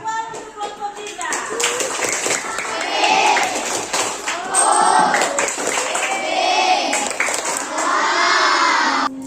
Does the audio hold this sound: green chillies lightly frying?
no